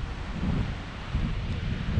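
Steady crosswind buffeting a microphone while cycling, a low rumbling gust noise with no voices.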